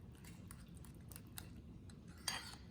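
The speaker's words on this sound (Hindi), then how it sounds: "अब इसको आप अच्छी तरह से फोर्क से यूँ तोड़ दें, मैश कर लें।" A fork mashes roasted eggplant in a bowl for baba ganoush, giving soft, quiet squelching with scattered light metal clicks and taps against the dish, close and faint.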